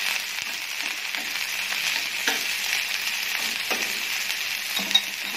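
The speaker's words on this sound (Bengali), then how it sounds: "এবার বয়েল করে যে চিকেনটা রেখেছিলাম সেটা আমি এর মধ্যে দিয়ে দেব। দিয়ে এটা দিয়ে আমি একটু এটাকে ফ্রাই করব।" Boiled chicken frying in a pan, a steady close hiss of sizzling oil with occasional soft stirring scrapes and a faint clink.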